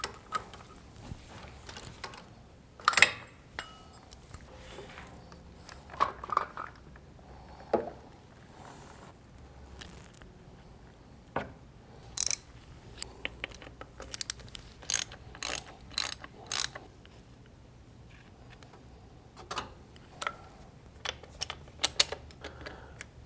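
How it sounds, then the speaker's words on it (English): Ratchet clicking in scattered short bursts while bolts are broken loose on a Harley-Davidson Dyna motorcycle during a 10,000-mile service, close and fairly quiet with pauses between pulls. "I like to break all the bolts loose a little bit before I start undoing them"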